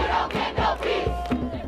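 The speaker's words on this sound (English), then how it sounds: "the crowd chanted and cheered them on" A protest crowd at a federal courthouse chants and cheers in loud, rhythmic bursts, with several swelling shouts filling the space close by.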